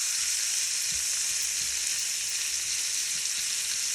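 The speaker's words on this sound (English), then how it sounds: "start to kind of break this meat up into the oil and get all the seasoning" Seasoned ground pork frying in hot oil in a pan, a steady loud hiss of sizzling with faint clicks from the meat being stirred and broken up, close and continuous.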